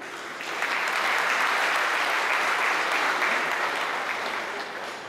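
Sustained audience applause fills a sports-club trophy ceremony, a dense, even roar of many hands that swells in and holds steady for several seconds with no voices over it.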